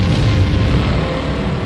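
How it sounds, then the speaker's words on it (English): A deep, rumbling boom rolls on with heavy low-end energy, loud and sustained like a distant explosion's aftermath. "the explosion will likely be the brightest supernova ever witnessed by mankind"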